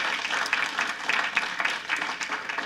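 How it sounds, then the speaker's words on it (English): An audience at a school board meeting claps for several seconds, a steady wash of applause at moderate loudness, with no talk over it. "So I wanted to give James Smith a round of applause for his personal work"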